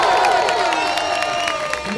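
Loud crowd cheering and clapping at a regional semifinal rap battle competition in Jundiaí, whoops and shouts rising over a mass of applause with voices carrying across the room.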